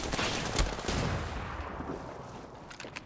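Rapid gunfire from a firefight in the video game Apex Legends, a dense, loud burst of overlapping shots that tapers off, with a few sharper reports near the end.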